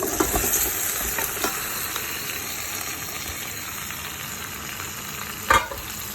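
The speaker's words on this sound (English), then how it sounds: "So I'm adding all my meat now." Meat for biryani goes into a hot pan and is stirred, giving a steady loud sizzle with scraping stir strokes and a sharp clatter near the end.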